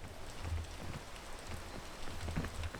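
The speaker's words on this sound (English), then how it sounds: "I thought the rain was stopping, but it didn't." Steady rain from the video game Peak, a soft continuous patter with low rumbling drops throughout, no voices.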